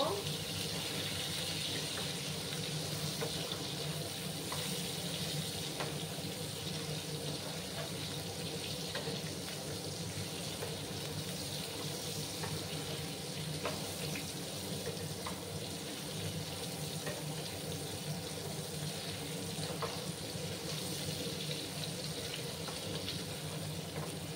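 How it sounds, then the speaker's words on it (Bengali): Ridge gourd (jhinge) fries in a pan on high heat, giving a steady, even sizzle and hiss that runs unbroken throughout, close and moderately loud, with a faint voice talking at times. "ঝিঙেটাকে আমি কিছুক্ষণ 5-6 মিনিটের মতো আমি ফ্রাই করে নেব।"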